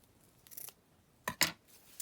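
Scissors snip through journal paper while a junk journal cover gets its finishing touches, giving a few crisp close cuts: one quick burst early, then two sharp snips close together and a last short one, with no talking.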